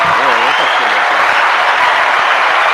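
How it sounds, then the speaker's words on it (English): A small group applauds briefly during a talk show discussion. The clapping is short and dense, and a voice is heard at the start. "round applause for Black History Month"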